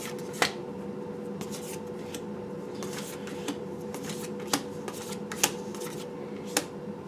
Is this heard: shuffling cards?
yes